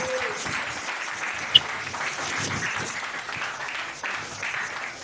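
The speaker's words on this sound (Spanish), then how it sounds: "un aplauso." Audience applauding at an album presentation: steady, moderately loud clapping from a seated crowd, continuous through the whole stretch, with one sharp louder clap near the start and no talk.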